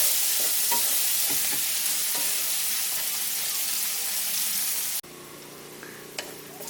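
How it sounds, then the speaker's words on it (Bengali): Chopped onions fry in a pan for a chicken dopiaza, giving a steady broadband sizzle with occasional stirring scrapes, close and fairly loud, until the sizzle drops abruptly to a quieter hiss near the end. "পেঁয়াজটাকে হালকা করে একটু ভেজে নিচ্ছি।"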